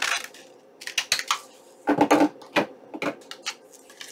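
Scissors trimming a coffee-dyed paper hanger tag, giving a series of small, close snips and paper crinkles in irregular bursts, with no talking.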